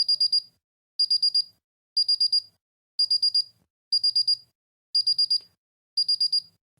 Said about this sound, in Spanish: voy a conectar la alarma